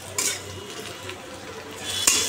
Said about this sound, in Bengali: দেখো এখন গোল গোল আলু ভাজা হচ্ছে আমাদের জলখাবারে